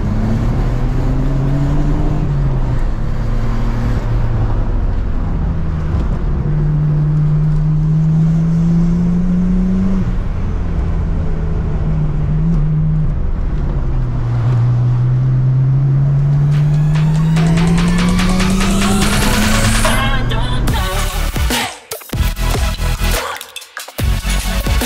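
A JDM car driving downhill on the Myogi mountain pass in Japan, engine droning and shifting pitch as it works through gears and bends, close and loud, ending with chaotic rattling and wind buffeting.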